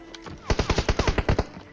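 Gunfire in a video game shooter rattles out in a quick burst of about ten sharp, loud shots, evenly spaced, with no voices.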